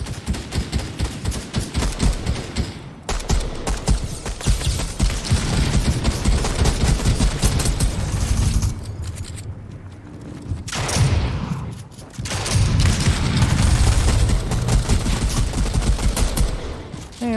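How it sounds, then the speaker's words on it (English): Rapid gunfire from the Fortnite video game, dense bursts of automatic shots rattling loudly almost continuously, with brief gaps between volleys. "And missed all those shots."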